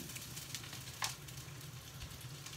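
Cut cabbage stir-frying in a pan, a faint, quiet sizzle with a few soft scraping stirs and a brief clack, no voices.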